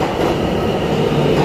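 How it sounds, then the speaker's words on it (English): A New York City subway train arriving at Roosevelt Island station, a loud, steady rumble and roar of rail cars with no breaks and no voices. "Anyway, the train is coming."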